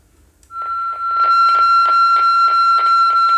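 Welcome tone from a Motorola GT10 two-way radio: a steady high electronic tone opens, then a rapid run of pulsed beeps repeats loudly and evenly for a few seconds, close up with no talk.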